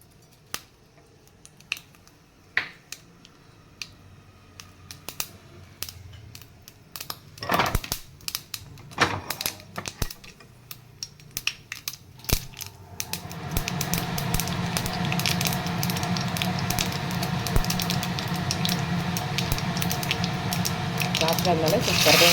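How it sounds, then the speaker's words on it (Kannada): Mustard seeds dropped into hot oil in a kadai start out as scattered sharp pops and clicks, then build into a dense, steady crackling sputter that grows louder and continues to the end. "ಈಗ ಎಣ್ಣೆ ಕಾದಿದೆ, ಇದಕ್ಕೆ ಸ್ವಲ್ಪ ಸಾಸಿವೆ ಹಾಕ್ತಾಯಿದ್ದೀನಿ."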